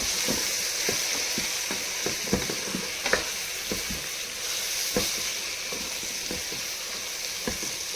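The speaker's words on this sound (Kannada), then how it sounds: "ಈಗ ಫ್ರೈ ಆಗಿತ್ತು ಎಲ್ಲನೂ ಮಸಾಲೆ" Vangibath masala powder frying in oil for a rice dish, giving a continuous soft sizzle close by, broken by scattered clicks and taps of stirring, with no speech.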